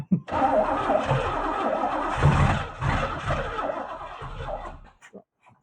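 A barn-find Chevrolet Camaro, stored for 32 years, cranks and catches, its engine running roughly and steadily close by for several seconds before cutting out, with no voices over it.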